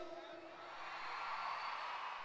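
A crowd of women yells and whoops together at a concert, a sustained high-pitched cheer that swells louder toward the middle and holds steady.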